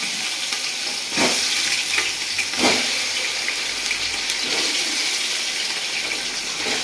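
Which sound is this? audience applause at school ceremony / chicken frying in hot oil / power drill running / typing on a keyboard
chicken frying in hot oil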